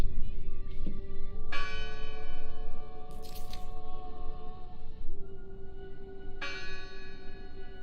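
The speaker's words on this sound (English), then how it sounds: "Listen! The bell!" A church bell tolls in the video game Draugen, with three resonant strikes spaced a few seconds apart ringing out over a steady windy outdoor wash and a brief crackle.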